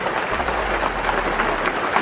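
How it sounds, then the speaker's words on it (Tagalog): Dense, steady hiss of heavy rain pouring down continuously, with a low rumble underneath and no voices. "magtago muna tayo, kasi parang malakas tong ulan na ito."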